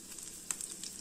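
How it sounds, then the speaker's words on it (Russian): Pear slices frying in a pan for pancakes, a steady bright sizzle with small crackling pops, close and continuous without talk. "Но мне почему-то захотелось, чтобы она, груша, поджарилась."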